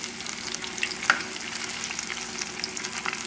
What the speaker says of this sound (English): As long as it's frying like that, you know you have good temperature.